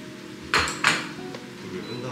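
Stir-fried vegetables tipped into a pan of braised royal court tteokbokki, heard as two sharp metallic clanks in quick succession over a quiet kitchen background.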